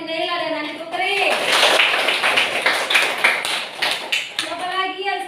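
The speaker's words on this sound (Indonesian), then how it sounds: "Tepuk tangan untuk Andi Naila dan Andi Putri." Classroom students clapping for two classmates during a lesson, a short burst of hand claps that rises between stretches of talk, with voices heard before and after.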